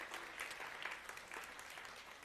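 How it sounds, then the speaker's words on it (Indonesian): A congregation applauds at a Sunday church service at Philadelphia Praise Center to welcome first-time visitors, a steady, even wash of many hands clapping, faint and distant throughout. "kasih tepuk tangan."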